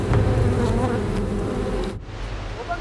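A dense, agitated buzzing of many beehive bees, irritated by smoke before honey collection, fills the air loudly and steadily, dipping briefly before the swarm's drone resumes.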